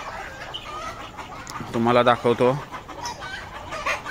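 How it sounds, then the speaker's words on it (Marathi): Chickens on a poultry farm cluck and squawk together in a loud burst around the middle, with softer clucking before and after, while someone talks nearby. "तिकडे बघा तुम्ही, सर्व कोंबड्या आवाज देतात"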